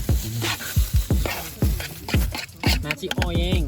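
Nasi goreng fried rice is stir-fried in a pan, with repeated scraping strokes of a spatula over a steady sizzle, loud and close, and a brief tonal squeal near the end.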